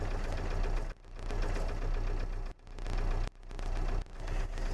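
Diesel engine of an Iveco Daily van running rough, a steady low chugging drone with an uneven knocking beat that cuts out briefly several times, close and loud with no talk.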